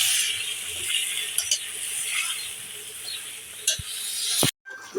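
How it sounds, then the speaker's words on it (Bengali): Mixed vegetables, okra among them, sautéing in a hot pan: a continuous bright sizzle with occasional stirring clinks and scrapes, ending in an abrupt cut. "তাই এই সবজিটি আমি ভালো করে কষিয়ে নেব"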